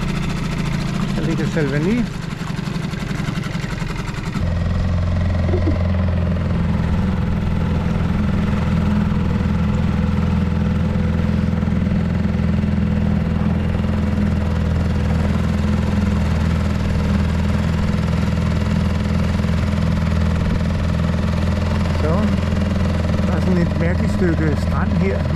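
An outboard motor, carburettor just worked on, runs steadily at close range on a boat taking a test trip through the harbour at Ostia near Rome, its drone continuous throughout while someone talks over it.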